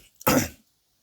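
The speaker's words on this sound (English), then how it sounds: "clear my throat." A single short, gravelly throat clearing, close and fairly loud, followed by silence.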